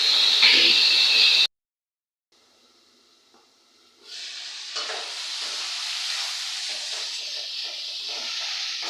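Curry being stirred and fried in a pan, a loud steady sizzle with scraping at first, then a near-silent gap, then a moderate sizzle returning with light clatters of stirring.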